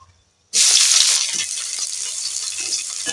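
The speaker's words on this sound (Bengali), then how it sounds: "পেঁয়াজ কুচোনাটা ভালো করে ভেজে নিয়েছি" Chopped onions drop into hot oil with a sudden loud sizzle that settles into steady frying crackle, close and alone.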